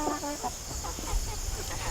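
Backyard chickens clucking close by in a steady run of short, overlapping calls, with a faint outdoor hiss underneath and no talk.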